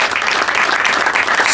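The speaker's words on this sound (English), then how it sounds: "give a round of applause to Kerry Moore" A civic meeting crowd applauding a local official, with dense, steady clapping filling the whole short stretch at close range and no break.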